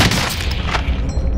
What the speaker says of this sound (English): We just traded bullets, I guess.